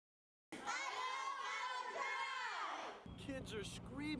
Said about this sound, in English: Kids are screaming how much they love their new school.